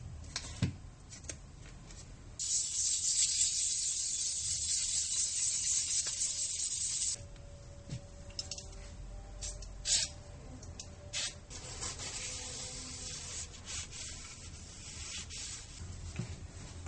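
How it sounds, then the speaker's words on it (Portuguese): Sandpaper rubbed by hand over a variator part from a Daelim S3 125 Fi scooter with 66,000 km, with a steady loud scratching burst early on, then lighter intermittent rubbing strokes, close and alone. "Vamos passar aqui com a lixa."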